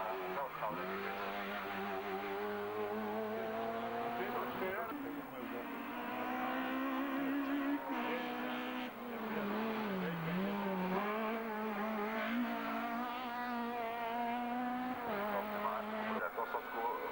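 Group A race cars up to 3000 cc at the Ilirska Bistrica hill climb, 2004: a loud, steady engine note climbs and drops through gear changes as a car powers by, while a commentator talks over it throughout.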